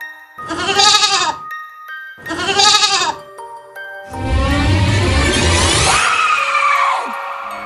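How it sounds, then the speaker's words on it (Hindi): Two loud, drawn-out goat bleats close by, then a long harsh screeching wail that slides downward at the end. "अचानक यहाँ कमल को अपनी बकरी की आवाज सुनाई देती है"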